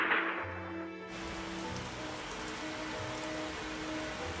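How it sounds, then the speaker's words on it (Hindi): Heavy rain pours steadily onto a surface, a dense continuous hiss with no voices, rising to full strength after the first second. "तभी अचानक बादल गरजने लगे और तेज बारिश हो गई।"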